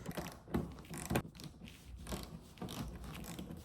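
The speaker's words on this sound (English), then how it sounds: "grab your ratchet or whatever you're using and start removing the bolts in the inner fender well" A ratchet removes bolts in the inner fender well of an S650 Mustang, with repeated bursts of close, rapid clicking and a few louder strokes, with no talking.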